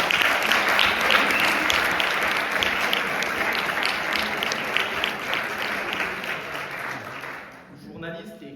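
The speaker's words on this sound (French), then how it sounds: "je vous demande une ovation pour Jessie Berger" An audience gives a sustained ovation welcoming Jessie Berger at the Prix Veil 2026 event: dense, steady clapping from a large crowd that holds for several seconds before thinning out near the end.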